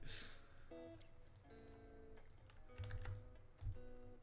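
Quick, uneven clicking of keys on a keyboard, fairly quiet, with soft tonal sounds in the background and no talking.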